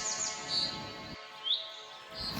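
Birds in Amsang Wildlife Sanctuary give a few quick, high chirps, fairly faint, over a soft, steady background of forest ambience.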